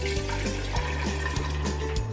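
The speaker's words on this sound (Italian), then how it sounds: "per prima cosa gli verso dentro l'acqua" Water is poured steadily into a jar to start a batch of tepache, a continuous splashing gush with faint rhythmic gurgles, nearby and without voices.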